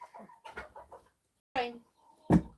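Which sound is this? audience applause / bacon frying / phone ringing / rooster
rooster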